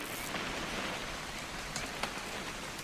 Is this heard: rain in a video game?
yes